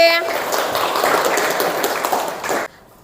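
Children in a classroom clap together, a dense burst of applause lasting over two seconds before stopping abruptly, with a voice briefly at the start.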